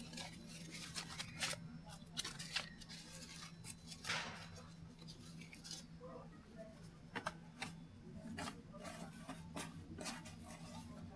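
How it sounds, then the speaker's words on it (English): Scissors snip through white construction paper, cutting it into pieces with a run of quiet, crisp clicks and crinkles close by over a low background hum. "some white construction paper, which I'm gonna cut into pieces"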